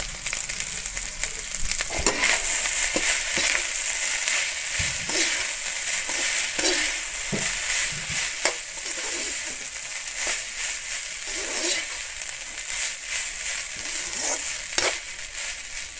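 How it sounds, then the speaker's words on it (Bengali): Boiled rice for a vegetable pulao fries in a pan, a steady close sizzle running throughout with repeated scraping and stirring clatters as a utensil turns the grains, no voices. "সিদ্ধ করা চাউলটা এখন আমি বাজিম।"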